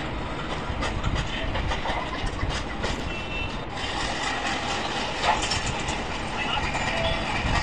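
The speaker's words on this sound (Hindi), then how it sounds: "ट्रेन पहुंच चुकी है मथुरा जंक्शन।" A passenger train pulling into Mathura Junction station at night, heard close up as a continuous loud rumble of moving rail cars with clanks and faint mechanical beeps.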